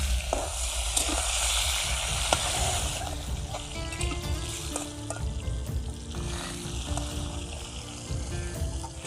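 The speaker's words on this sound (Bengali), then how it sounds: "মাছের মাথাটা আমি ভালো করে উল্টিয়ে পাল্টিয়ে ভেজে নেব।" A fish head sizzles and crackles steadily in hot mustard oil in a wok, a dense, continuous frying hiss with occasional sharper pops and scraping as it is turned.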